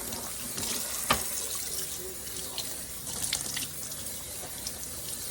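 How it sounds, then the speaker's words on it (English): Fresh homegrown collard greens washed front and back under a running kitchen tap, a close, steady stream of water splashing into the sink with brief louder splashes as leaves are handled. "I just take them and just wash them like this, right? Wash them off good. Front and back."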